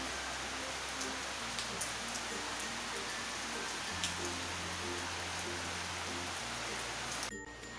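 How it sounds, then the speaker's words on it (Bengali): Steady afternoon rain falls as an even, constant hiss of drops on surfaces, moderately close and unbroken, with a low hum underneath and no voices. "বিকালবেলা দেখো বৃষ্টির শব্দটা আর সারাদিনই বৃষ্টি বৃষ্টি হয়েই যাচ্ছে"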